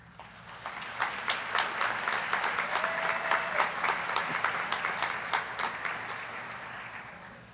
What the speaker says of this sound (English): It says pause for applause here.